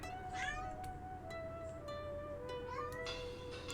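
An injured pet cat meows repeatedly indoors, several drawn-out plaintive cries rising and falling over a low background hum, faint and somewhat distant.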